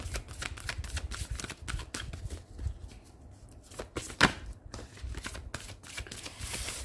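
Tarot cards shuffled and drawn by hand, a dense run of quick papery riffles and flicks close to the microphone that eases briefly in the middle before resuming just as fast.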